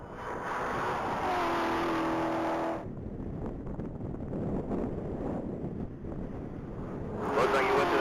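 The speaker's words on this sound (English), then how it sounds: "That's Steve Altenberg in a blue 2016 Chevrolet Corvette Z06" A blue 2016 Chevrolet Corvette Z06 on a top speed run at a Texas Mile event, its engine roaring loudly and steadily amid heavy wind buffeting, then fading before another pass surges in near the end.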